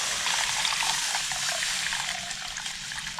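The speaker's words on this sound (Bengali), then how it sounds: "এবার আমি এর ভিতরে 1 লিটার জল দিয়ে দেবো।" A steady stream of water, about a litre, poured into a pot for chicken soup, a close continuous splashing rush that holds evenly throughout.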